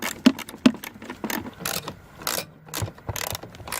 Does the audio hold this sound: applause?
no